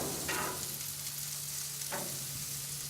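Steaks sizzle on a ranch grill with a steady, even crackle and hiss, fairly quiet and close, with a few brief louder spits rising out of the frying noise.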